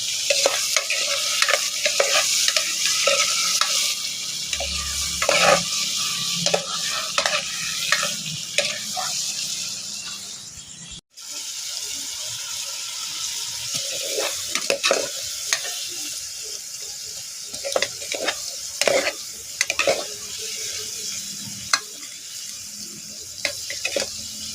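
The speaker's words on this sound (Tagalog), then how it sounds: "Gigisa na hipon" Shrimp sautéed and stirred in a pan for sinigang na hipon, steady sizzle and frying hiss with repeated scraping stir strokes, a brief pause midway, close and continuous with no talk.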